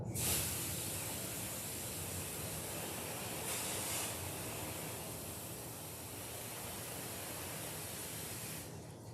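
Water sprays in a steady, close hiss while a Yorkshire terrier is bathed. The spray runs almost unbroken from start to finish, with small swells in strength.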